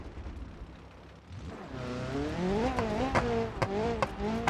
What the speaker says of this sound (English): With a new car, it is as if nothing ever happened, and I attack the rally stage with extreme caution.